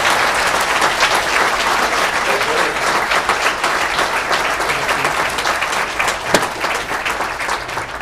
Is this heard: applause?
yes